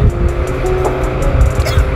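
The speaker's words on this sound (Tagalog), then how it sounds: "So iyan yung mga kotse na dumadaan." Cars passing on a road near Laguna Beach, a continuous close engine and tyre rumble with small surges, heard from a stopped vehicle with no talk over it.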